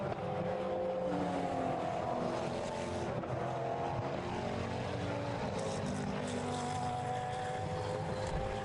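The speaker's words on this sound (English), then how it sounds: "the final Ferrari you can see in your shot there, he is our 2nd place man, Carlos Iaconelli." A Ferrari GT race car in a 2011 Blancpain Endurance Series race at Silverstone roars down the Hangar Straight, a sustained engine drone with a rising and falling pitch heard from trackside over several seconds.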